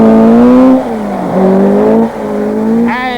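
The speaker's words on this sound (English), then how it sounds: "Hannu Mikkola gingerly feeds in 240 brake horsepower." A 1979 Triumph TR7 rally car with 240 brake horsepower, on the RAC Rally, revs hard and accelerates, its engine note rising and dipping through gear changes before climbing again, loud and close.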